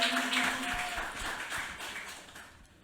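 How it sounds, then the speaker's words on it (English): An audience at a poetry reading applauds to welcome poets Nicole Sealey and Danez Smith, with scattered claps that thin out and fade to near quiet over a few seconds. "let's give them another big round of applause to welcome them"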